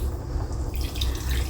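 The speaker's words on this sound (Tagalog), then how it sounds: "Lagyan na natin ng tubig." Tap water running steadily into a cooking pot while preparing chicken sinigang with tomatoes, a brief close splashing rush filling the kitchen.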